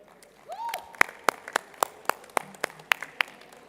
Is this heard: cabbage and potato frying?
no